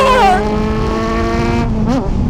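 Kawasaki Z900 2023 inline-four motorcycle engine revving hard, a loud rising and falling whine with harmonics, then a second sharp rev blip.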